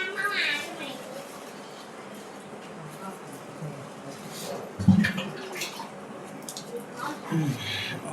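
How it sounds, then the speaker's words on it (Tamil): Water is poured from a small pot, splashing and trickling at a modest distance against a quiet background, with a louder splash burst midway and a voice heard at times. "ஒரு சொம்பில் தண்ணி எடுத்து அப்படியே ஊற்றிடுவோம் மேலே."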